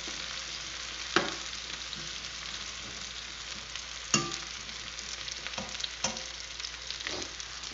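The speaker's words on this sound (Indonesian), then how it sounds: "Tempe masukkan, dioseng-oseng." Tempe stir-fried in a pan sizzles softly and steadily, close by, while a spatula scrapes and clacks against the pan in occasional sharp knocks; no one speaks.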